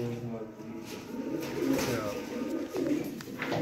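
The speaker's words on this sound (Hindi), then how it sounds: "बहुत ही अच्छी क्वालिटी के कबूतरों का शौक करवाया जा रहा है।" Pigeons of the Mian Nazir bloodline coo in low, rolling bursts that repeat across the whole stretch, with a voice talking over them for much of it.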